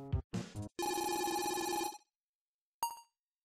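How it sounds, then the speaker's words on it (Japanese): A telephone rings in a Japanese job-hunting game, with short electronic bursts followed by a long sustained ringtone tone and then one brief final chime, clean and alone. "あ、電話だ。"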